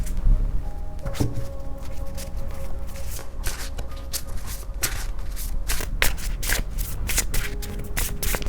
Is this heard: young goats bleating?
no